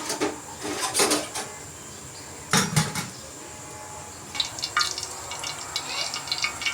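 Oil going into a pan on a kitchen stove, with clinks of pans and utensils in short bursts around a quieter stretch, then a scatter of light metallic taps and faint pouring, close by and without talk.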